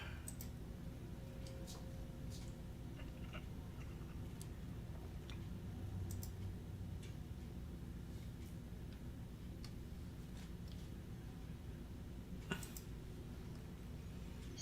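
Keystrokes tap on a computer keyboard in quick, irregular clicks, faint and close, over a steady background hum during a live trading broadcast.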